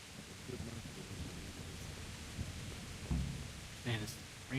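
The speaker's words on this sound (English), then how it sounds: "Man, this rain is loud." Heavy rain pours steadily in the medieval role-playing game Kingdom Come: Deliverance, a dense continuous hiss with a few brief thuds and rustles and a short burst of voice near the end.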